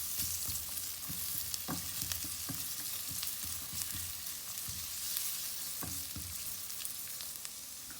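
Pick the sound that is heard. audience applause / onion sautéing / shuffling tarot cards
onion sautéing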